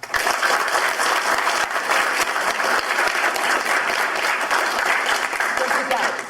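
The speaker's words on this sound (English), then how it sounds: "Give a big round of applause." An audience at a Brazilian jiu-jitsu training seminar gives the instructors a big round of applause, dense steady clapping from a modest room-sized crowd, sustained and fairly loud, with occasional voices mixed in.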